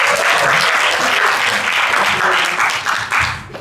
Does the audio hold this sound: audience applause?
yes